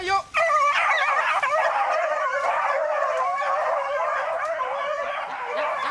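A pack of hunting dogs chasing wild rabbits, giving continuous overlapping barks, yips and whining bays at moderate distance, layered and unbroken throughout.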